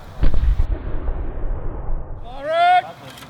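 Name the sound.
firing a black-powder gun, priming powder igniting the cartridge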